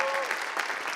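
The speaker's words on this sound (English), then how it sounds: "Please give them both applause" Audience applause after a Sichuan Opera performance, a dense, steady wash of clapping throughout, with a brief tone in the background.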